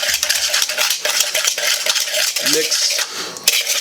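Cinnamon and granulated sugar being stirred with a utensil in a dish, a steady close scraping and clinking of metal against the bowl that continues without pause and with no talking.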